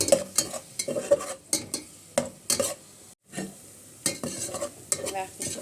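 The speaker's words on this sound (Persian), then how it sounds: "اول پیاز رو رنده میکنم و میذارم سرخ بشه." Grated onion frying in a pan while being stirred, with a bed of sizzle under repeated spoon scrapes and knocks in an uneven rhythm and one brief pause, close and clear, no voices.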